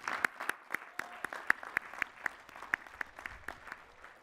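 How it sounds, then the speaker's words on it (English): Sparse applause from a small audience at a graduate commencement ceremony, with individual hand claps sounding steady and fairly distinct rather than as a dense roar. "Please recognize the 2020 master's degree graduates with our hearty congratulations and applause."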